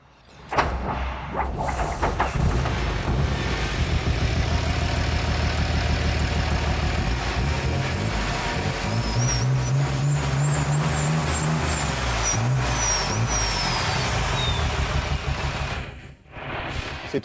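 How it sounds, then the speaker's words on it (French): An engine runs loudly and steadily, a dense low rumble with a rising and falling whine in the middle, then it cuts off abruptly near the end. "Je veux entendre le bruit du moteur, si possible, s'il vous plaît."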